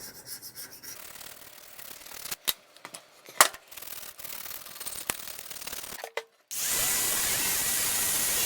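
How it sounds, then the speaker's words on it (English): Scraping and scuffing as the painted slide of an old C. Parker vise is worked on, then a power sander starts up and runs as a steady, loud hiss to the end. "We'll sand it where it's all nice and smooth,"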